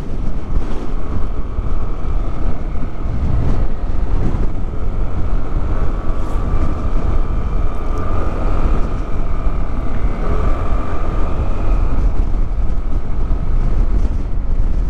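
Strong wind roars steadily against the microphone on a rough bypass road from Paete, Laguna to Real and Mauban, Quezon, a constant loud rumble with a faint engine drone underneath.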